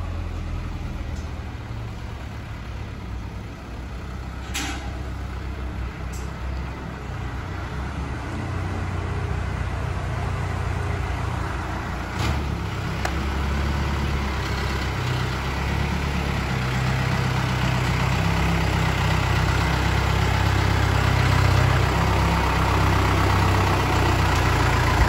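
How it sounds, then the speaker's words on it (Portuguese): A tractor engine rumbles steadily nearby, a low heavy drone that grows slightly louder over time, with no voices. "Olha o pai dando uma volta com o trator."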